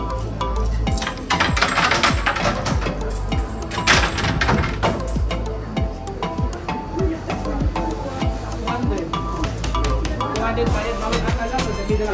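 Coins clinking and dropping as offerings at a temple in Yokohama Chinatown, a steady busy stream of metallic chinks and clatter against crowd bustle, with voices talking nearby.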